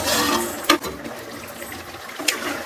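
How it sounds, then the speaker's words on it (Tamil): Crab gravy bubbles and gurgles in a pot at a steady simmer, with a couple of sharper pops. "நல்லா கொதிச்சு வேகுது"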